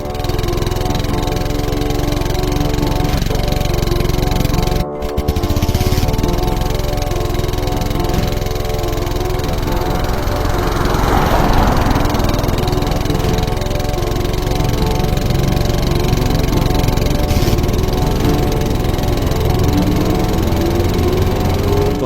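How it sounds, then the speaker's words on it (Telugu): Highway traffic at night: vehicle engines drone continuously, a steady mechanical hum with a passing vehicle swelling midway, no voices. "వాహనాలతో రద్దీగా ఉంటుంది"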